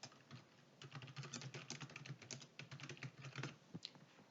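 Rapid, steady typing on a computer keyboard while entering a slide title, a dense run of close key clicks with brief pauses, no voices.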